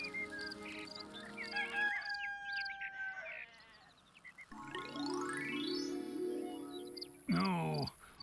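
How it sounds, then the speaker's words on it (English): A rooster crows in the video game Black & White 2, mixed with bird and sheep-like calls, a long rising and falling cry in the middle and a loud squawk at the end over ambient game sound. "This rooster wakes me up every single day."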